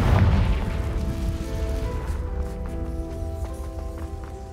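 In Hogwarts Legacy, a Confringo blasting spell goes off with a heavy, booming burst at the start. A rumbling tail follows and fades under faint game music and effects.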